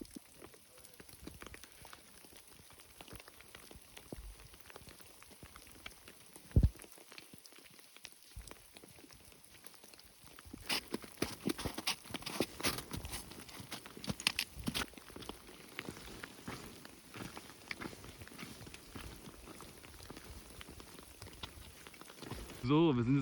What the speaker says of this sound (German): Und es regnet, es hagelt, es liegt teilweise Schnee hier.